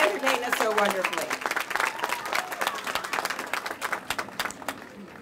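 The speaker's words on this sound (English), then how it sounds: "will you join me in offering up just one more round of applause for the fantastic performers of the Elkridge Elementary School Chorus" A crowd at a library grand opening applauds the Elkridge Elementary School Chorus: loud, sharp clapping that gradually thins out, with a voice speaking over it at the start.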